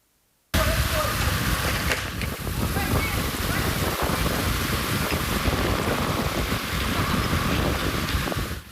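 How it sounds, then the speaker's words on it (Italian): Heavy driving rain and strong wind gusts lash Venice during an early afternoon summer storm, a loud, dense, continuous roar of rain and wind that starts abruptly and keeps up without a break. "Pioggia battente e forti raffiche di vento si sono abbattute violentemente sul veneziano nel primo pomeriggio."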